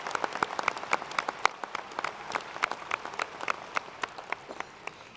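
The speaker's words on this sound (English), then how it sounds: "A round of applause for these outstanding students." Applause for graduating students at a university fall commencement: a modest crowd clapping, with individual sharp claps standing out as distinct irregular snaps over a softer background patter, fairly quiet and distant.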